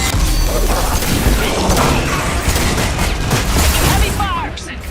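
Heavy gunfire and battle noise in Mass Effect 2, a dense, loud continuous barrage of shots and impacts that persists throughout and thins slightly near the end.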